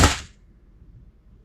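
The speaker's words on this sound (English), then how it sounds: "We're gonna be doing the Crosman domed pellets first." A Seneca Dragonfly Mk2 multi-pump air rifle, pumped up to 10 pumps, fires a single Crosman domed pellet: one sharp, close crack that dies away quickly into near silence.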